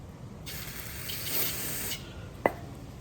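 An aerosol cleaner sprays brake parts on a 2014–2019 Toyota Corolla during a front pad and rotor replacement: a steady close hiss of about a second and a half, then a brief sharp clack.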